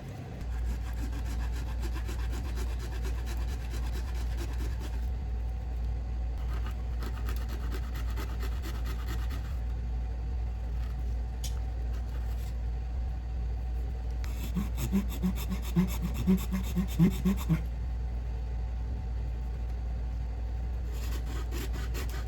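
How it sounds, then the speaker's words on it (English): A hand saw rasps through a plastic boat panel to cut holes for new electrical sockets, a steady close scraping stroke over a constant low engine-like hum, with a quicker rhythmic burst of strokes near the end. "I mark the holes for the new sockets and start cutting them out."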